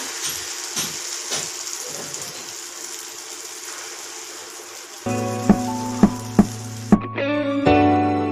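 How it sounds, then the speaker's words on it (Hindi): Egg batter sizzles softly in oil in a pan, a hissing fry with a few light scrapes, then gives way to a louder humming tone with a few sharp knocks. "अब हम इसको फ्राई करेंगे। थोड़ा सा ऑयल डालेंगे, हम बैटर डालेंगे हम इसमें।"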